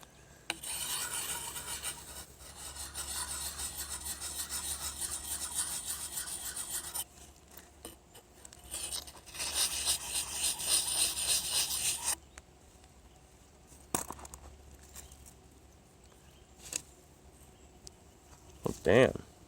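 A knife is sharpened on a handheld sharpening puck with long bursts of dry rasping strokes, then a pause and a few scattered scrapes and knocks, close and fairly loud.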